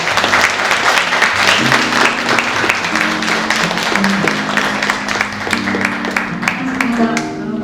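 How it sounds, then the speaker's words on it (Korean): An audience at a climate forum applauds to welcome a speaker, with continuous dense clapping over background music with sustained tones, fading slightly near the end. "그럼 박수로 강금실 대사님을 모시겠습니다."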